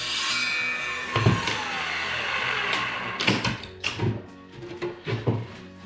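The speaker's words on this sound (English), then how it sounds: "now I'm gonna go ahead and start cutting out the hatch lid" Wood being cut to make a hatch lid for a jon boat casting deck, with close scraping, rubbing and knocking of the board in irregular bursts, including a faint whining tone early on and several sharp handling thuds.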